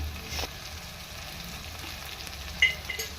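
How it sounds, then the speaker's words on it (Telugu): Mutton paya frying in a pan, a low, steady sizzle close by with a few faint stirring scrapes and one brief louder clatter near the end. "ఇగో 10-15 నిమిషాలు ఇలా బాగా వేయించుకోవాలి"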